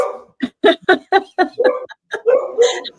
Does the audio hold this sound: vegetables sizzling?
no